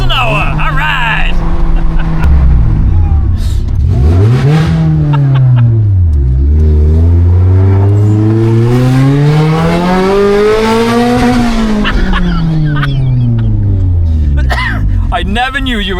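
A Honda Civic EJ9 with a blown exhaust revs hard, its engine note sweeping up and down in long loud surges, with voices talking over it.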